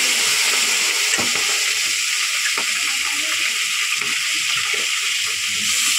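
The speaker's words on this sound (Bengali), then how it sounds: "চুনো মাছগুলো ভাজবো।" Small chuno fish frying in a pan give a continuous, even hiss and crackle, close and steady throughout with faint occasional pops.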